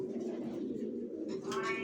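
Racer pigeon chicks give soft, low, rounded coos, a brief murmuring burst at close range with a slightly brighter call near the end.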